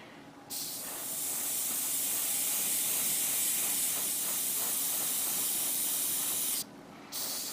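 An airbrush sprays paint inside a spray booth onto a 1/144 HG Darilbalde Gundam model kit, making a steady, loud airy hiss that starts after a brief pause and runs for about six seconds before cutting off.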